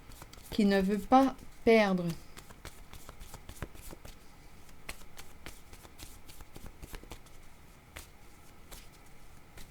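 Tarot cards are shuffled in two quick riffling bursts near the start, crisp and close, followed by quiet room tone with faint soft handling sounds.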